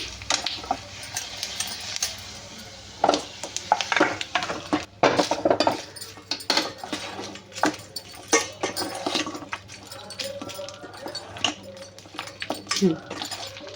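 A spoon clinks and scrapes against a metal pan while fried tempering is stirred into curd rice for daddojanam, steady irregular tapping and scraping throughout with a voice talking over it.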